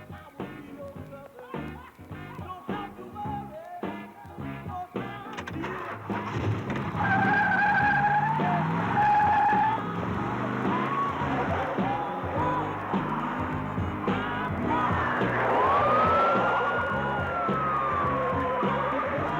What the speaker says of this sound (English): Sirens blaring, cars revving, a lot of good sound.